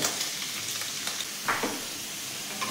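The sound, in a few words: paneer pieces frying in white oil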